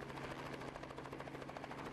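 A helicopter hovers close by to open a beer bottle with an opener tied to the end of its right-hand skid, its rotor and engine producing a loud, steady, pulsing drone with a constant whine throughout.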